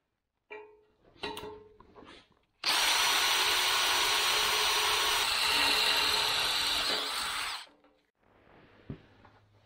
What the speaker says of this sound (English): So I'm just going to drill and tap it.